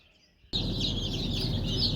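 After a brief quiet moment, a crowd of chicks starts peeping busily, high chirps overlapping continuously at close range.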